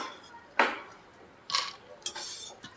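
Roasted edible gum scooped out of a pan while making dry fruit laddus, a few sharp metallic scrapes and clinks of a spoon against the pan in an otherwise quiet kitchen.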